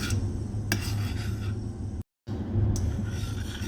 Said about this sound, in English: I will keep stirring.